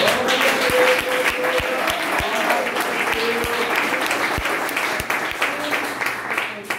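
Church congregation clapping joyfully together, a loud, continuous wash of many hands with some regular beats standing out, sustained for nearly seven seconds with a voice heard faintly beneath.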